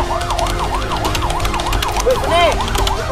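Wailing ambulance siren in a police checkpoint and ambush training scenario, its rising and falling sweeps repeating steadily and loud throughout, with a second siren tone joining briefly near the end.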